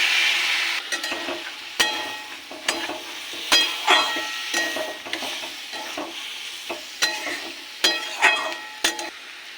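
A spoon scrapes and knocks around a pan of sizzling pointed gourd and soybean curry, with irregular clinks over a steady frying hiss.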